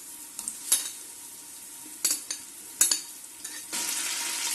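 Garlic frying in hot mustard oil in a pan, soft sizzling with a few sharp crackles and stirring scrapes, ending in a louder steady hiss.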